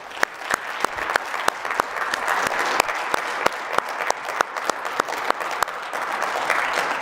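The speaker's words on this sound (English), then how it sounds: "So we can give him a round of applause." A crowd at a motivational speech claps steadily, a dense patter with a few sharper individual claps standing out near the front, sustained at moderate loudness without talk.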